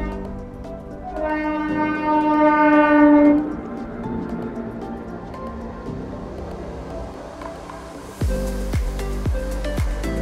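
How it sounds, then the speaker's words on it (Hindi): A train passes at a railway crossing in Gujarat, its horn sounding loud and near in a long, steady blast before the rumble of passing wagons, then sharp rhythmic clacks of wheels over the rail joints. "ट्रेन आई थी इसलिए रुकना पड़ा।"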